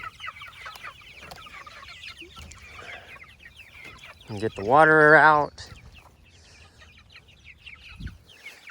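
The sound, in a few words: chickens clucking in a chicken tractor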